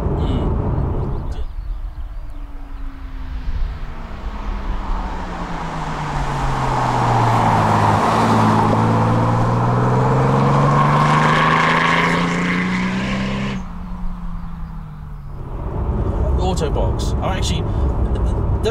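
An automatic Toyota Supra drives on a road, its engine droning steadily and rising then falling in pitch as it accelerates and eases off, loud in the cabin with road noise throughout and occasional talk.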